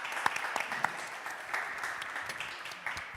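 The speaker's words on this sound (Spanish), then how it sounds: "voy a pediros que deis un aplauso a Ji Yang y a Óscar Senar" Applause from a modest audience at a comics talk, fairly quiet and sparse, with a few distinct nearby claps standing out over a softer patter of hands.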